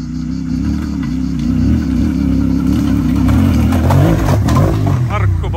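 Ducati Desert X motorcycle engine running hard off-road, a loud continuous mid-pitched drone held open at steady throttle, close by with wind and dirt noise, and a voice faintly under it.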